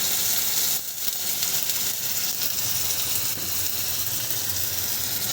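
Ginger and onion paste frying in hot oil for pulao, a dense continuous sizzle with a soft crackle, close and steady throughout, no talking.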